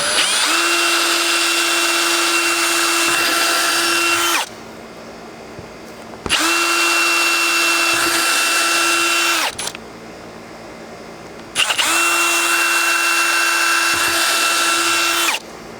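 A power drill whines loudly in three long bursts, separated by brief quieter pauses, close by with no talking.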